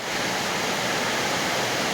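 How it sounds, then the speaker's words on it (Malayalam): Heavy rain driven by wind makes a steady, loud, even rush of hiss that fills the whole moment without a break or a voice. "നല്ല മഴ പെയ്തല്ലോ."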